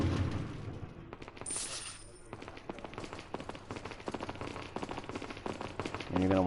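Gunfire in Resident Evil 4 on PS4 as shots are fired at a hanging jewel: a rapid run of sharp, close bursts over steady game music and ambience.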